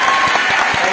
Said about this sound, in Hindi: जोरदार तालियां हो जाए भुवनेश्वर के लिए